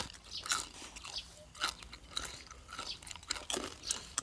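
Close, crisp crunching bites and chewing on crackly roast suckling pig skin, repeated crunches at an uneven pace, fairly quiet and with no talking.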